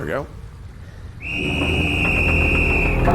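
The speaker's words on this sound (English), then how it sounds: "I gotta go blow a whistle" A steady, piercing whistle blown in a video game, sounding clearly for about two seconds after a short spoken phrase, with faint game noise beneath.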